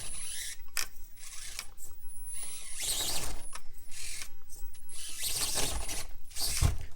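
A NexxSpeed AX24 RC crawler's electric motor whirs and grinds with a ratcheting, gear-like texture, rising and falling in short bursts, fairly faint and up close.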